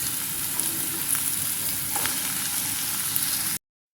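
Clove beans tossed into hot oil with onion, kanthari chilli and curry leaves give a steady close sizzle with faint stirring scrapes, continuous and alone, ending abruptly.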